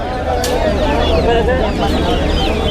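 Chickens at a bird market, a rooster and hen among them, give repeated close clucks and squawks over a dense, noisy crowd background.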